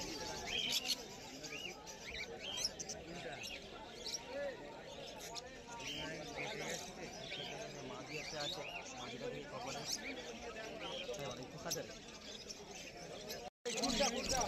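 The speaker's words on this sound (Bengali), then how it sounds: "মিনু চাচার কাছে প্রচুর পরিমাণে বদ্রি পাখি রয়েছে" Many small birds chirp and tweet continuously at a busy outdoor bird market where semi-adult budgerigar pairs are sold, with crowd voices murmuring beneath; the chatter stays dense and steady before a brief dropout near the end.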